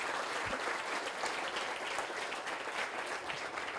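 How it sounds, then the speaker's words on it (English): Wedding guests applauding during the toasts, a continuous dense patter of many hands clapping at a steady level, close and filling the room without any voices over it. "we give them a huge round of applause"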